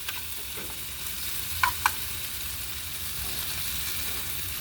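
An egg sizzles in a hot pan in a small home kitchen, a steady, soft crackle of frying with a couple of sharp clinks of a utensil against the pan partway through.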